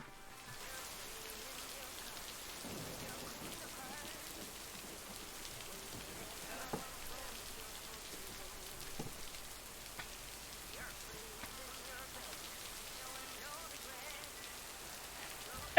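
Heavy rain falling by a lake in a thunderstorm, a steady even wash of drops with scattered louder patters on nearby surfaces.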